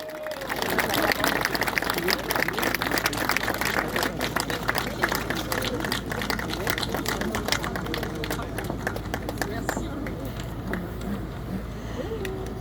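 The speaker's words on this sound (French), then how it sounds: "Anne-Marie Coustou, qu'on peut applaudir très fort" Audience at a Patriotes political meeting applauding a speaker from the Lot, a dense, steady wash of clapping and crowd noise lasting throughout at even loudness.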